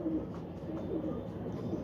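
Pigeons coo softly in a loft, low repeated murmuring calls, faint and close, with a little background noise.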